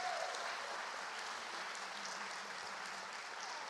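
Audience applauding at a Rosh Hashanah gathering, a steady, dense wash of clapping from many hands that holds at an even level for the whole stretch, with no voices over it.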